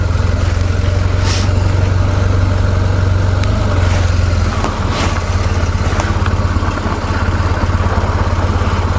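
A BMW GS motorcycle engine pulls steadily uphill, a loud, continuous mid-pitched drone with a low throb that holds close and constant throughout, with faint wind noise and no voices.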